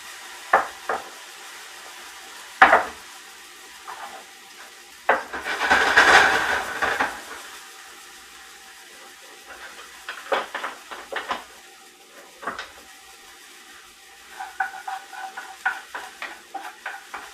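About a teaspoon of capers hit a pan still slick with oil residue during outdoor cooking, giving a brief burst of sizzling, then scattered clinks and scrapes of stirring, close by with no voices.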